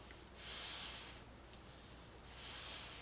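A dog breathes heavily somewhere in the background of a quiet indoor room, two soft, airy, rhythmic puffs rising and fading over a low hiss.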